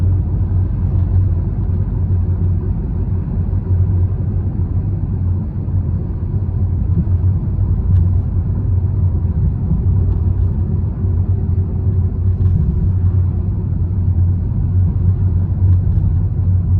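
A car driving at around 20 mph on a busy road in West Didsbury, a loud, steady low rumble of engine and tyre noise heard from inside the vehicle, with no talking.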